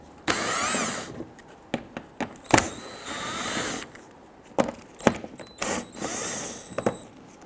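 A 10mm socket backs screws out of the front bumper of a 2006-2012 Toyota RAV4, giving sharp ratcheting and clicking bursts with brief whirring pulls and clatters, close by and without speech.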